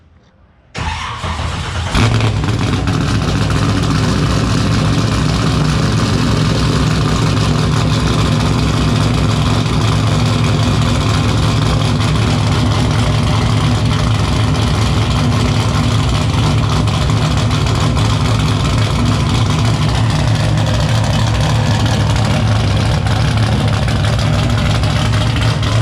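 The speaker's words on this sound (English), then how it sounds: "we actually announce when we turn the car on because it's pretty loud" A 700 hp BMW M3 E36 race car running with no mufflers starts up and then idles loud and close, with a deep, steady, unmuffled rumble that lasts throughout.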